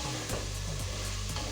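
Chicken and vegetables sauté in a pan, a soft steady sizzle with faint scraping and stirring throughout, fairly quiet and alone.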